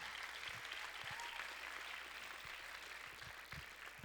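A congregation at a church service claps in praise of Jesus, producing soft, continuous applause that sounds faint and somewhat distant, with a few sharper individual claps standing out.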